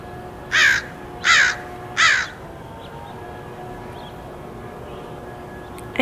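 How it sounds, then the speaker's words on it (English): Crow cawing three times in a steady rhythm, fairly close and clear, followed by quiet background hum. "I hate crows."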